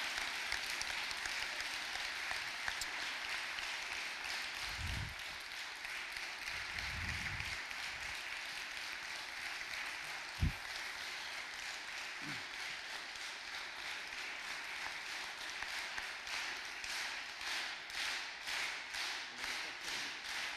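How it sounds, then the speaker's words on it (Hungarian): A hall audience applauds after a youth brass band concert, with steady, moderately faint clapping that carries on throughout and a few sharper taps and thumps. "Én azt gondolom, hogy megérdemlik a tapsot."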